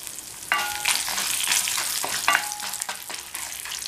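Chana dal and dried red chillies roast in a pan for a curry leaf and tomato chutney, a close, continuous sizzling crackle broken by several sharp spatula scrapes and clinks against the pan at irregular intervals.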